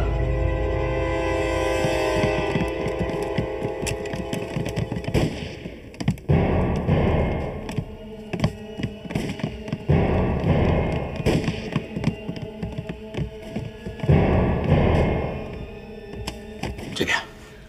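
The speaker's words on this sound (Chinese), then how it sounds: "枪声，阿春他们怎么了？" Gunfire in a wartime action film about a female agent fighting Japanese soldiers: a dense opening din breaks into bursts of sharp shots and pops. The firing continues irregularly over loud background sound, with voices mixed in.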